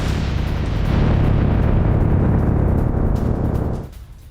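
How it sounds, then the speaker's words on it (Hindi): Explosions from an Iranian ballistic missile attack on Sharjah, heard as a loud, continuous rumbling roar of distant blasts. The roar holds steady for several seconds, then drops off sharply near the end. "बैलिस्टिक मिसाइलों से हमला किया गया"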